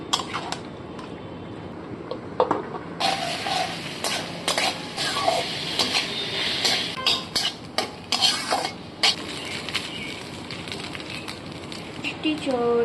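Chicken marinated with salt, turmeric and yogurt fries in a pan at home, a steady sizzle broken by repeated clinks and scrapes of a spoon stirring against the metal.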